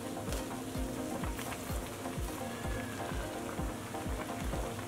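Vermicelli boiling in water over a high flame, with a steady bubbling wash and repeated soft low popping bursts from the rolling boil, continuous and close with no talk.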